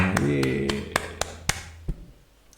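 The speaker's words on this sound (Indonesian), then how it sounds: "Tepuk tangan untuk semuanya." A few sharp hand claps ring out one after another, fairly close, in a classroom setting, following a brief bit of sung or spoken voice at the start.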